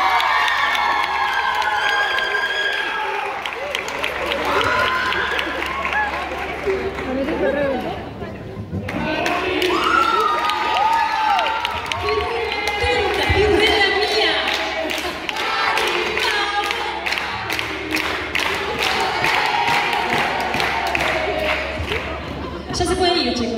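A theatre audience at a live concert in La Plata claps and cheers for a performer, a sustained crowd roar with whistles and shouts, and a voice speaks over it near the start.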